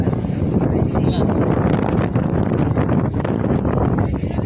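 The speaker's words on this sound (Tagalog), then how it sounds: "Medyo mahangin ngayon" Steady wind on a Boracay beach buffets the microphone with a broad rushing roar, continuous and fairly loud throughout, with no distinct voices standing out.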